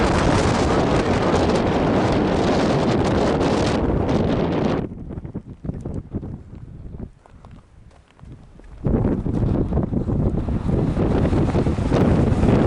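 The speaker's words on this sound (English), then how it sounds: "A lot of wind came from up there. It's ridiculous winds." Strong wind gusting on a trail in Teddy Roosevelt National Park's South Unit, loud roaring buffeting against the microphone that eases briefly midway, then surges back just as hard.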